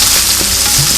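Onions and garlic sizzle steadily in hot oil in a pan, a dense, even frying hiss that stays loud and close throughout the short moment.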